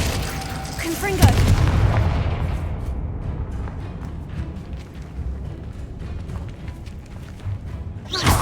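A Confringo fire spell goes off in the Hogwarts Legacy video game, a loud booming blast that hits sharply and then rumbles away over several seconds, with a second burst near the end.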